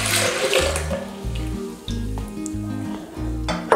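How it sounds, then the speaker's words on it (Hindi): Milk being poured into a juicer jug to make almond sharbat, a steady liquid splash heard close up under rhythmic background music. "उसमें हम दूध डालेंगे"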